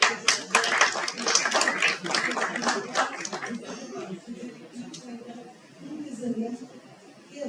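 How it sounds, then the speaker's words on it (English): An audience at a climate-policy conference gives a short round of applause for a speaker. Scattered claps come in a quick burst and then fade, with some chuckling and murmured voices underneath. "Please give applause to Maya Grove."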